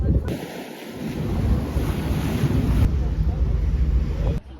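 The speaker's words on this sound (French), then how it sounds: "il y a un petit vent" Wind blows across a beach in Egypt, buffeting the microphone with a steady, loud rush and low rumble for nearly the whole stretch before cutting off abruptly at the end.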